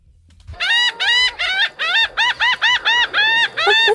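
A guitar imitates the call of a laughing gull, with a run of about a dozen loud, bright, bending wailing notes played in quick succession, each rising then falling, close and alone.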